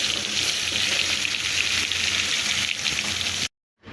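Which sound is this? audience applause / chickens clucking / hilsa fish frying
hilsa fish frying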